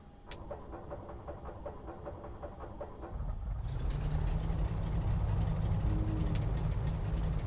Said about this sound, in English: That's the sound of a Seneca.